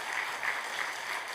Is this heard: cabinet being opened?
no